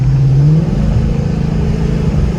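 A 2019 Ford Mustang GT with an X-pipe exhaust driving through the city, its V8 a close, loud, steady low rumble with a brief rising rev at the start, no talk.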